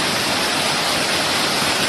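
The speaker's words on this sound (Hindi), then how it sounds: "नीचे एक झरना जहाँ पर गिरता है वहाँ एक ताल जैसा बन जाता है" A waterfall in the Kamsyar valley, near an old Bhadrakali temple, pours steadily into a pool below, a loud, continuous broadband rush of white water that holds even for the whole stretch, with no voices over it.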